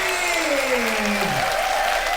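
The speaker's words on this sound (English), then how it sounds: "And the crowd goes wild." An audience applauding at a ukulele concert: dense, continuous clapping from a crowd, loud and sustained throughout, with a descending tonal sweep briefly audible underneath.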